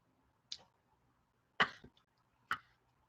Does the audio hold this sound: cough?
yes